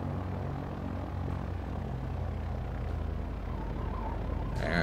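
Twin engines of a Piper PA30 Twin Comanche in the X-Plane flight simulator make a steady, even propeller drone at idle that holds throughout at a constant level, with no voices.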